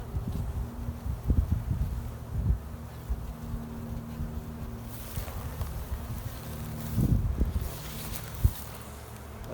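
Bees buzzing around a hive being glued back together, a faint, wavering drone mixed with wind rumble and scattered low thumps over about ten seconds.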